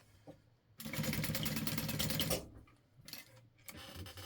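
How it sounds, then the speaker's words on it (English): A sewing machine back stitching to baste straps onto a clear backpack, one sustained loud run of rapid stitching followed by a couple of shorter bursts, close up with no talk. "I mean I'm back stitching"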